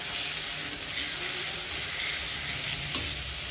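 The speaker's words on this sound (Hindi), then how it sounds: "अब हम प्याज को पकने देंगे," Chopped onions and cumin seeds sizzle steadily in a hot pan for pav bhaji, a continuous close frying hiss with faint stirring clicks and no talking.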